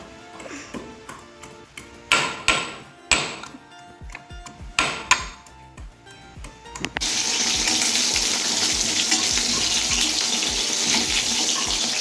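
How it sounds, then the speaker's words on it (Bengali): Ginger pounded into paste with a mortar and pestle makes a string of sharp, irregular knocks nearby, then a tap runs steadily with water splashing for the rest of the clip. "এই হামল দিস্তাটাই এই আদাটা করে নেবো, পেস্ট করে নেবো"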